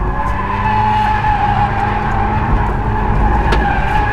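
A Mazda RX8 drifting, its tires skidding in a loud, continuous squeal over a steady engine drone, close and sustained without a break.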